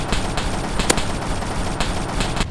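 Rapid automatic gunfire from the military video game Arma 3, a loud, dense burst of overlapping shots lasting a couple of seconds with no pauses.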